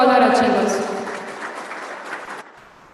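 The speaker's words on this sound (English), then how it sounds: "A big round of applause for all our achievers." After a voice at a college prize distribution ceremony, the audience claps for the prize winners, a brief burst of dense applause that fades and cuts off after a couple of seconds.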